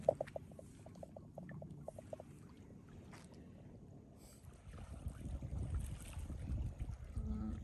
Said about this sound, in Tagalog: Yung alon, oh. Unti-unting lumakas.